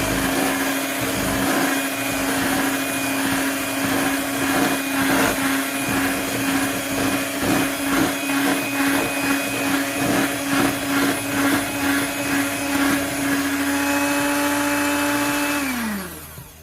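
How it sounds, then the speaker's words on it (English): Electric hand mixer whirring steadily through a Japanese dessert mixture, a loud, close, continuous motor whine with slight wobbling texture that winds down and stops at the end; no talking. "so here we go with a mixer"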